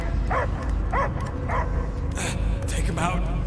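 Dog barking and whimpering in the video game Guardians of the Galaxy, a series of short yips and barks repeating about every half second over a steady rumbling game soundscape.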